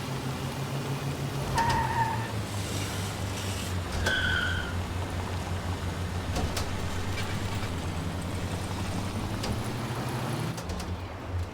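A car engine drones steadily with shifting pitch, a few short chirpy effects over it, like a driving game with continuous motor noise, from a Tintin video game, The Cigars of the Pharaoh, as the car jumps.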